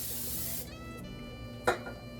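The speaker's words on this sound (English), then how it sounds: "So I'm going to oil my air fry," A hissing spray of cooking oil into an air fryer lasts just over half a second, followed by quiet background and a brief rubbing scrape.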